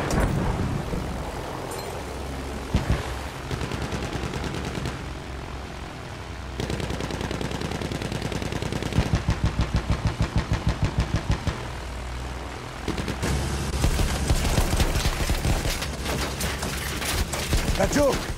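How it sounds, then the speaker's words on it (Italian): An enemy machine gun fires in Battlefield 1 as rapid, rattling bursts on and off over a steady battlefield rumble of engines and other gunfire, loud and fairly close throughout. "Mitragliatrice nemica!"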